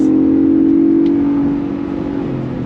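A 2024 Ford Bronco Raptor engine with a 10-speed transmission revs hard with a steady droning tone that eases off slightly, heard from inside the vehicle.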